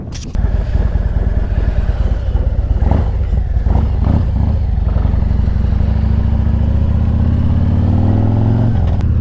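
A Harley-Davidson Milwaukee-Eight 107 motorcycle engine with a Redshift 468 cam, Khrome Werks full exhaust and Thundermax tuner idles and revs loudly up close, with a few sharp throttle blips early on before settling into a steady, deep, rumbling idle.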